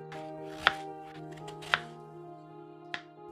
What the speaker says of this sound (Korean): 무는 5mm 두께 4cm 길이로 잘라주시고요.